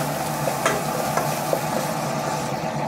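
Shiitake mushrooms stir-fry in sesame oil in a frying pan that was just used to cook beef, giving a steady close sizzle with light stirring scrapes and a few soft clicks of the utensil against the pan.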